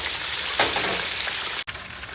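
Soft shell crabs frying in hot oil, a steady dense sizzle with a brief brighter crackle partway through and a sudden short dropout near the end, no talking.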